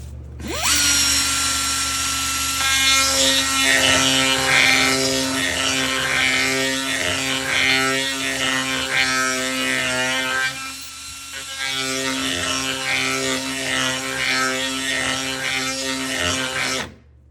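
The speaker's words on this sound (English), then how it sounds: "we'll trim it up a little bit with the whizzer and custom fit them" A die grinder fitted with a burr whines steadily as it trims a plastic cab heater part for a Yamaha RMAX, a loud continuous high motor tone with brief dips in pitch where it bites the workpiece, no voices.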